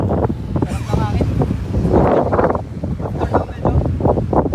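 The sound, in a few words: strong wind on a mountaintop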